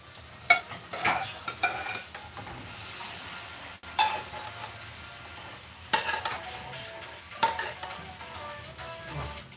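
Hot sizzling rises as mung beans are dropped into a pan, with scraping and clattering of a utensil in uneven bursts over the frying noise.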